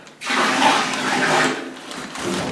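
About 250 grams of water pours steadily into a container while mixing inverted sugar syrup, a loud, close, continuous splashing rush that eases briefly before picking up again.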